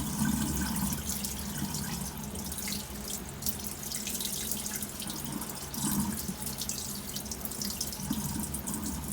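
Running tap water pours steadily into a container, with gritty swishing and rattling of aquarium gravel being rinsed throughout.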